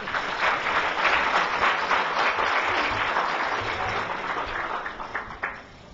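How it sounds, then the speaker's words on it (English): A crowd at the launch of a stock exchange SME trading platform breaks into sustained applause, dense clapping from many hands at an even level for several seconds before easing slightly at the end. "let's start with a huge round of applause."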